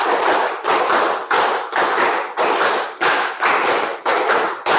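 A classroom of pupils claps together in a tight rhythmic pattern, bursts of loud, close hand claps repeating in regular groups with brief pauses between, no talking over it.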